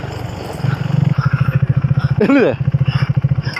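A motorcycle rides slowly along during a drone shoot, its engine putting in a fast, steady pulse close by, with a brief rising whine midway and people talking over it.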